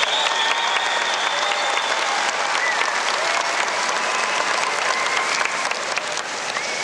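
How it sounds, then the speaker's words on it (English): Steady, broad applause from a crowd at a sports tournament ceremony honoring sponsors and volunteers, sustained evenly throughout at moderate loudness with no voices standing out. "Let's give them a big round of applause."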